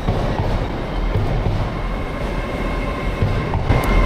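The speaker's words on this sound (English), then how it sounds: "wait for the train coming up from London, and it arrived right on schedule" An Avanti West Coast passenger train from London arrives at Crewe station platform, rumbling and clattering steadily, a loud, continuous low roar of wheels on rails with no talking.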